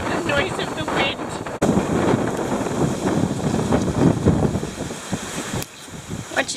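Strong wind buffets the microphone in loud, steady rumbling gusts, with a brief dip near the end.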